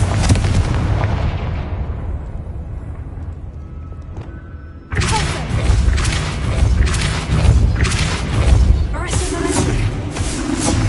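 In the Hogwarts game, a Confringo spell sets off a heavy booming explosion that fades to a rumble, then further loud blasts and crackling impacts follow amid battle noise.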